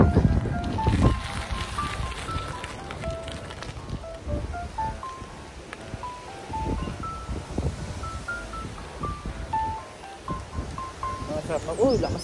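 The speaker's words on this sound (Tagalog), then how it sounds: "Lakas ng wave ng lake. Lakas kasi ng hangin eh. Masyadong windy." Wind rushes across the microphone while lake waves churn and lap nearby at Buffalo Pound, Saskatchewan, Canada, with people talking over the gusty, rumbling background.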